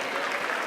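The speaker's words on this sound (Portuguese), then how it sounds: "Pode aplaudir o Senhor." A church congregation applauds during a worship service, a brief, dense burst of clapping from many hands filling the space evenly without pause.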